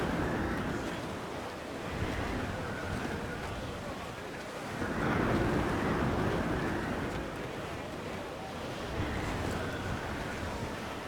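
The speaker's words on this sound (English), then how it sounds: "Dark skies and rough seas there!" Rough seas and gusting wind surge in slow, swelling waves around a sailing ship in Assassin's Creed IV Black Flag. The roar rises and falls about every few seconds and stays loud and continuous.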